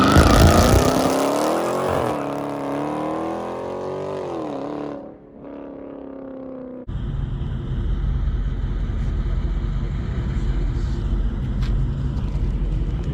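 A 2020 Dodge Challenger Scat Pack Widebody with a 392 engine roars loudly at launch with rising revs, then fades into a distant drone as it spins its tires and pulls away.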